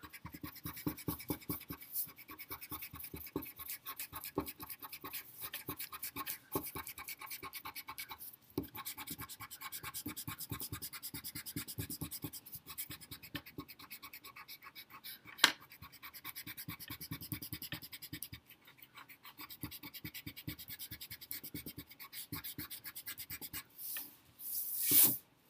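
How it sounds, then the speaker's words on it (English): Pencil marks being rubbed off paper with an eraser before a watercolor painting, a close, steady rapid scrubbing that continues in short rhythmic bursts with brief pauses. "you need to go back and you need to erase all your pencil marks"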